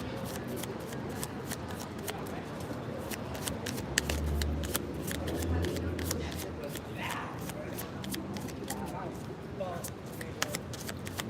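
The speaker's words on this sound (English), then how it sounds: "Fast forward past the shuffling." Playing cards shuffled by hand, a continuous run of quick crisp riffles and snaps repeating steadily for several seconds at a quiet, close level.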